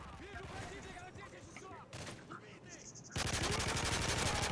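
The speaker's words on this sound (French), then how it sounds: "Il suffit de tirer des petites courtes rafales." Short bursts of P90 submachine-gun fire in Modern Warfare 3 survival mode, loud rapid crackling rounds that intensify and fill the end of the clip, with game sound and talk underneath earlier.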